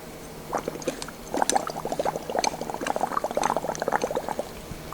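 A plastic straw stirs potassium dichromate solution in a lab vessel, giving close, steady liquid swishing and small sloshing splashes that keep going without pause.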